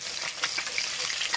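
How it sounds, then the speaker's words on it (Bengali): Fish sizzles steadily as it fries in a pan, a close, dense crackle with faint stirring touches throughout. "আর এক খোলা মাছ আমাদের প্রায় ভাজা হয়ে গেছে।"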